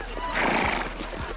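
A horse gives a short, close neigh with a hoof clip-clop beneath it, heard in a comedy film scene.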